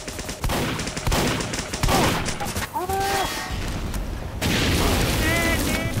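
Needle gun fire in the video game Team Fortress 2, rapid rattling bursts with booms and chaotic game effects, loud and close, as players talk over the action.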